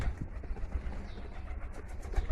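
Low, soft cooing of Jalali pigeons murmuring continuously nearby, with a faint background rumble.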